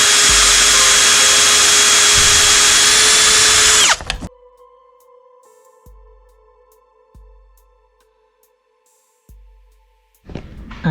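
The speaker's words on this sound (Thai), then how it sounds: "เจาะลงไปเลยนะครับรูเล็กก่อนนะครับแล้วค่อยนำรูใหญ่ครับเจาะรูเล็กนำไปก่อน" A power drill bores a small pilot hole for a front camera on a Toyota Fortuner, a loud, steady high whine for about four seconds that stops abruptly, followed by quiet with a few faint knocks and handling sounds.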